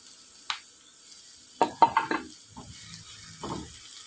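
Grated onion and green chilies fry in a pan with a soft, quiet sizzle, broken by a short cluster of stirring scrapes and clacks and a few later spoon strokes.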